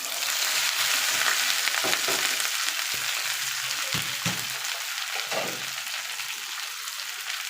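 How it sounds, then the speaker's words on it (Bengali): Okra tipped into hot oil in a pan, giving a steady loud sizzle that fades only slightly, with occasional stirring clicks underneath. "তেলটা গরম হয়ে গেছে এখন সব ভেন্ডিগুলো ঢেলে দেবো"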